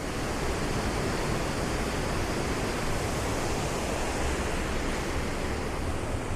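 A flood-swollen waterfall pours in a loud, unbroken roar that fills the whole stretch with steady broadband rushing water and no voices.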